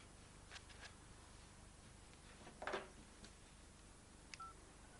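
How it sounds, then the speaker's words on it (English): Telephone number dialed with a few scattered keypad tones, then a short cluster of beeps around the middle and a brief tone near the end, all faint against quiet room hiss. "dial the number, hold the phone to my ear"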